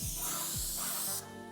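Airless paint sprayer coating a door, a loud, steady, close hiss of spray that runs throughout and cuts off abruptly near the end, with no talking.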